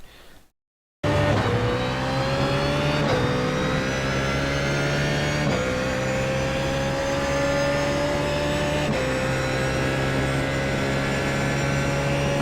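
BMW Z4 GT3 race car in a racing video game at Monza, its engine droning loud and steady as it pulls hard, pitch climbing through gears with brief dips at each upshift, and no talk.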